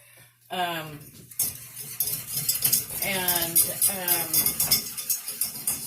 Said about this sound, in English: we have some milk that's heated up, and I'm just trying to get that skim that top off of it